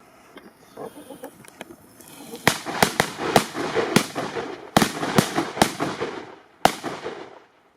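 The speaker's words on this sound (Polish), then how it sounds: "Jak widzicie, petardy wszystkie wypaliły." Firecrackers go off in a quarry, a rapid string of sharp, loud cracks with echoing tails over several seconds, then one last bang after a short pause.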